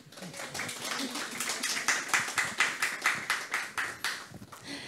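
Audience applause at a Polish literary event, a discussion about writing for children, with dense rhythmic clapping that swells and stays steady across the room, a few sharper claps standing out near the front.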